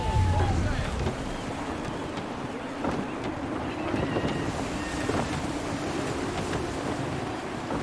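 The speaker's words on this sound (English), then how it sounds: "Wind looks to be shifting. Stay alert, Connor. Gusty winds can be difficult to manage." Gusty wind rushes around a sailing ship at sea in the Assassin's Creed III video game, a broad blustery roar with water wash and creaking beneath it.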